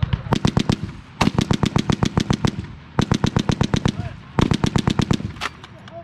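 An M2 .50 caliber machine gun fires on a US Army range at Fort Lewis in four loud, close bursts of rapid heavy shots, each burst about six to ten rounds with short pauses between.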